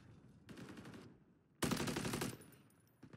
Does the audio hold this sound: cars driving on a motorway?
no